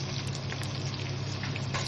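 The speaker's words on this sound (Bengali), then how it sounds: "দিয়ে দিচ্ছি রাইস" Boiled rice tipped into hot ghee in a pressure cooker for home-made biryani, a dense continuous sizzling hiss filling the whole moment with no voices.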